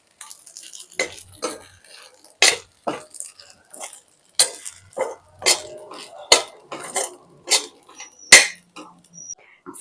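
Fasting bhel ingredients being mixed in a kadhai, a series of sharp, irregular metallic clinks and scrapes of a utensil against the pan, each knock distinct with quiet gaps between.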